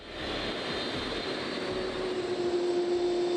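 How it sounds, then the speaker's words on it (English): Commercial airliner engines roaring during a taxi test as the new plane rolls along the taxiway, a steady loud drone with a rising whine, no voices. "its engines roar into life and push the aircraft along the taxiway"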